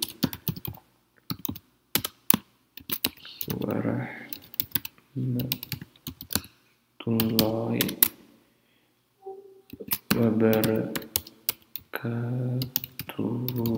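Quick bursts of keystrokes on a computer keyboard while entering an HTML greeting, close and clear, alternating with someone speaking between the typing runs.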